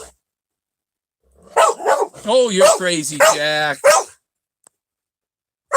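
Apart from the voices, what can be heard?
dog barking at coyotes outside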